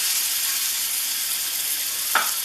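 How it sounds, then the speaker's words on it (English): A tomahawk cowboy ribeye steak sears loudly on a hot griddle during a reverse sear, giving a steady, dense sizzle throughout, with one brief scrape near the end. "just let it sear for a little bit longer on both sides"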